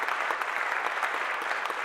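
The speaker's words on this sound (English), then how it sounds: "Let's welcome her with some applause." A crowd claps together in a steady, dense burst of applause after a dramatic reading, filling the room evenly from start to finish.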